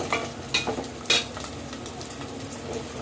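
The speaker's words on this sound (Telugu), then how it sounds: "రొయ్యలు అయితే దోరగా వేగినాయి కదండి, ఇందులో కొంచెం పసుపు అయితే వేసుకుందాము" Dried prawns fry with a sprinkle of turmeric in a pan, a steady sizzle broken by a few clinks and scrapes of a spoon stirring, close and moderately loud with no talking.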